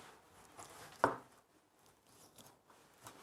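Quiet kitchen chopping with one clear knife strike on a board, surrounded by faint softer taps and low background noise.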